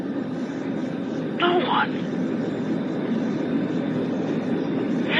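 Steady drone of a plane engine in flight runs under a scene from a 1975 radio drama about a ghost plane, with a voice speaking briefly over the continuous hum.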